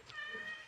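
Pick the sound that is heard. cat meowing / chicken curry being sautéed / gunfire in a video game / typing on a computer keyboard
cat meowing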